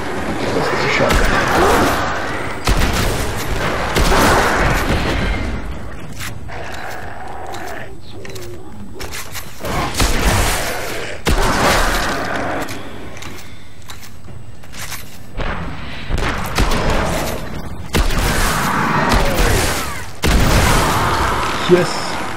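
Shotgun gunfire in the video game Destiny: repeated heavy booming blasts in bursts across the clip, mixed with game effects and someone talking over them.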